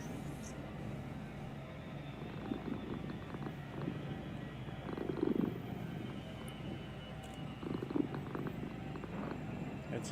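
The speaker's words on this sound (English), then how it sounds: "That's a happy cat right there." A house cat purrs steadily close by, a soft continuous rumble running the whole time, with quiet background noise and a few faint knocks.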